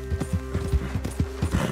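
Horse hooves galloping in Red Dead Redemption 2, a quick, even clip-clop rhythm of heavy hoofbeats, close and loud with no voices over them.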